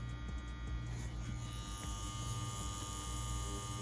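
A CNC WE Plus wireless tattoo machine runs steadily with a constant close electric buzz and hum, unbroken for several seconds with no talking.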